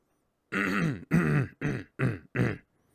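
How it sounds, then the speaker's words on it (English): Five short bursts of throat clearing, harsh and close, each separated by a brief pause, with no talking. "I gotta clear my throat"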